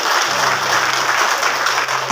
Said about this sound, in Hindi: सभी को मैं ये कहता हूं जोरदार तालियों से स्वागत कर रहे हो।